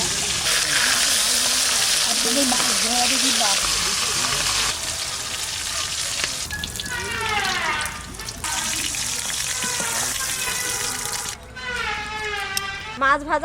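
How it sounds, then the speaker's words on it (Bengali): Fish frying in oil, a continuous sizzle heard under intermittent talking that grows more prominent in the second half. "মাছ ভাজা"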